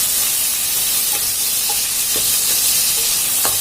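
Shrimp sizzles in a hot pan with a steady frying hiss, while a utensil occasionally scrapes and taps the pan as the food is stirred.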